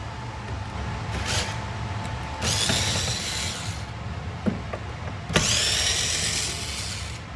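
A power tool backs out Phillips stainless steel screws from an electrical cover plate on a panel, with several short bursts of whirring and a couple of sharp clicks and scrapes between runs, close by.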